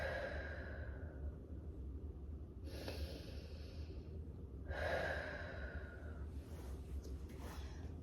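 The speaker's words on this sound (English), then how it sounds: "I always do quite a few breaths here" Deep breathing during a pregnancy and postpartum stretch, two slow audible exhales with faint inhales between, close and quiet.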